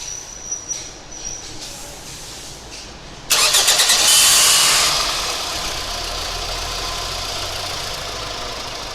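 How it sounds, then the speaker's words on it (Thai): A mid-size engine is cranked and catches with a sudden loud burst, sputtering briefly before settling into a steady, close idle that runs on to the end. "เราจะติดเครื่องใหม่"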